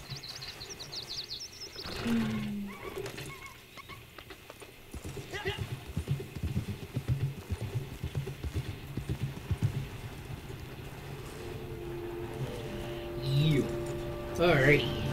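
Horse hooves clip-clopping in the Red Dead Online video game, a close run of steady hoofbeats with whinnies near the start and end, birdsong in the background and a person talking over parts of it.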